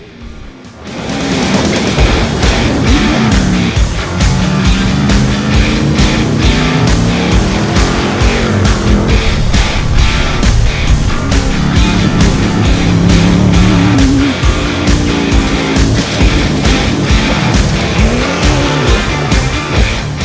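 Off-road buggies and trucks race at a Gas Dash event, loud engines roaring continuously with revving swells and a rapid pulsing rattle for about twenty seconds.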